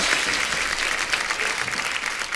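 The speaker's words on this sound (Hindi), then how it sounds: "एक बार जोरदार तालियां अभिषेक सर और चित्रांगदा के लिए।" Loud, steady applause from a television comedy show studio audience, many hands clapping densely and continuously throughout, with no voices on top.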